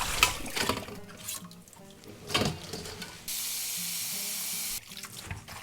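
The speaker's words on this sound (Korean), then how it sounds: "흐르는 물에 헹궈서 올려놓습니다. 마지막은 꼭 이렇게 흐르는 물에 깨끗하게 하세요." Young cabbage greens are rinsed under a running kitchen tap, with splashing, trickling water coming in uneven bursts and a steady, close stream of faucet flow in the middle stretch.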